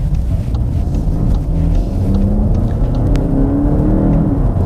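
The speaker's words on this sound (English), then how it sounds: "it's got kind of like an old school 4-cylinder growl to it" A 2021 VW Golf GTE hybrid's four-cylinder engine growls low and throaty, droning steadily, close and loud, with a slight rise in pitch partway through.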